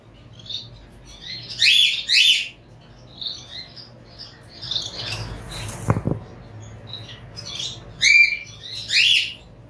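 Finches and cockatiels in an aviary in Dhaka, with bursts of chirps and tweets, some close and bright, some softer, between short quiet gaps and a brief rustle midway.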